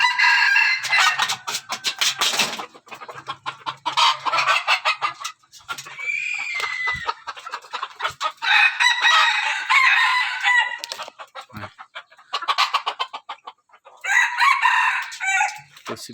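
Chickens cluck repeatedly while roosters crow loudly several times nearby, the bursts of crowing and clucking alternating with short pauses.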